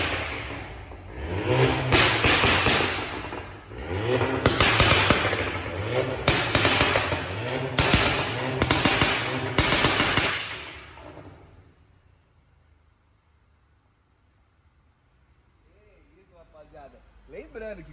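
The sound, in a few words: remapped VW Fusca TSI engine revving with pops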